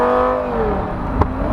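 A Lamborghini with a 5-liter V10 engine revs on a highway beneath an underpass, a loud close snarl whose pitch sweeps and shifts throughout a short burst.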